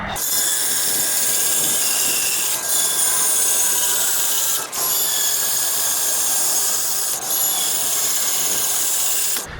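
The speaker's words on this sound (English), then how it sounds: "And then let's drill." A power drill bores plug weld holes in a steel tilt-bed trailer frame, a loud continuous grinding whine that runs the whole time with only a few brief dips, close by and with no talking.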